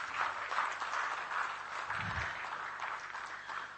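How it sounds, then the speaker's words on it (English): Audience at a book event applauding honored naval guests, a moderate spread of clapping heard at some distance, steady and fairly soft, with a brief low thump partway through. "Can we have a big round of applause for them?"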